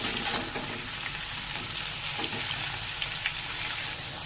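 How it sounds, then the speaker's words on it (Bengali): Pointed gourd, potato and aubergine sizzle in oil in a pan as a home cook stirs them, giving a steady soft frying hiss with faint scraping, close and alone without talk. "পটলগুলো দিয়ে দিলাম পরিমাণ মতো নুন বা সবজিগুলো মেরে দু তিন মিনিট মতন একটু ঘেঁটে নেব"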